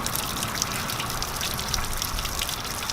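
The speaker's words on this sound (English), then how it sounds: "the water's going to start pumping, and it's going to be basically working its way out down where the prop is" Water from a hose flushes through an outboard boat engine, pumping out near the propeller in a steady, dense gushing rush that holds at an even level throughout, with no talking.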